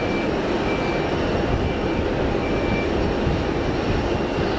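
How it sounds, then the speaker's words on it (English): Jetfly Pilatus PC-12 turboprop, a Luxembourg-registered single-engine plane at Geneva Airport, giving off a continuous dense propeller and engine roar, loud and steady for a few seconds with no voices. "Jetfly being nice prop noise."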